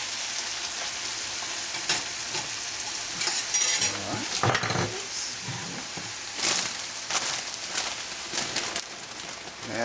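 Fresh spinach sauteing in a hot pan, a steady close sizzle broken by louder scraping and stirring strokes of a utensil as the leaves are turned.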